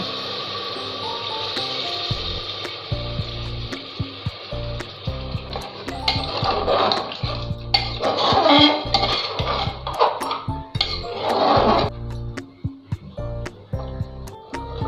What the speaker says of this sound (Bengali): গরম জল দিচ্ছি, ঝোলের জল দিচ্ছি।